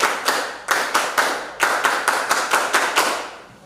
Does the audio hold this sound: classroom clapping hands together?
yes